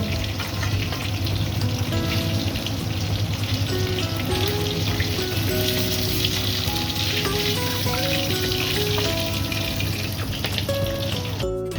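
Hilsa fish frying in oil, a dense steady sizzle with bubbling close by, accompanied by faint tonal background sounds, no voices.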